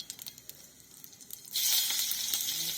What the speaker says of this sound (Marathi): थोडं थोडं जिरी आणि मोहरी नंतर ते तळल्यानंतर लसूण